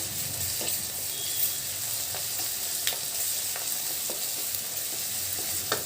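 Onion and tomato fry in a pan for an Andhra-style red amaranth curry, a continuous close sizzle broken by frequent scraping stirs of the spoon, with no talking.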